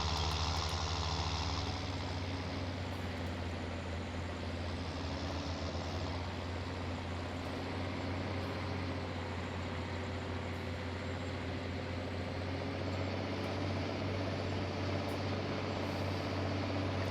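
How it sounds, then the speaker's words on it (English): A truck engine in Farming Simulator 19 drones steadily under engine braking, a continuous low rumble holding near and even for the whole stretch, with no talking. "Listen to the engine brake there, it just sounds incredible."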